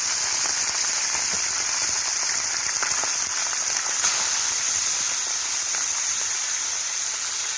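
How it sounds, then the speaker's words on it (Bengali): Fish pieces marinated in salt and turmeric sizzle steadily in hot oil in a pan, a dense, even crackling hiss that stays loud and close throughout with no talk. "একটু হালকা করে ভেজে নিচ্ছি মাছগুলো"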